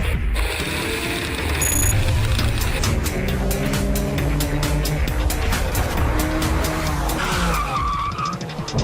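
Porsche 911 Turbo S with a PDK dual-clutch automatic accelerating hard, engine roaring continuously while a rapid series of sharp, crisp gearshift cracks punctuates the drive, loud and close throughout.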